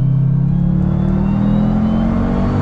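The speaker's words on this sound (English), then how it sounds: "Nice downshift, super smooth, super crisp." A 2021 Dodge Durango Hellcat's engine as it downshifts, a loud, close, continuous deep rumble that holds steady in tone throughout, with no talking.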